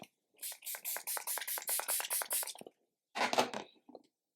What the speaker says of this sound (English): And then I'll just take some of my spray in.